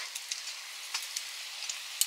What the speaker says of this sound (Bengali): এসব আমাদের পকোড়া ভাজা তো শেষ এইটাই লাস্ট